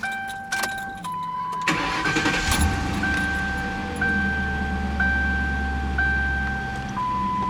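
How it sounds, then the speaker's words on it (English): A 2009 Ford Crown Victoria Police Interceptor starts up: a short cranking burst, then the engine catches and settles into a steady low idle while a repeating electronic chime pings over it. "Let's turn the vehicle on here real quick."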